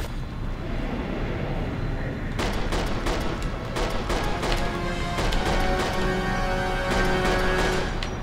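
Rapid bursts of gunfire from Resident Evil 6, with Jake and Sherry on the run, crackle in dense repeated volleys over a loud rumbling game soundscape, with no talking over them.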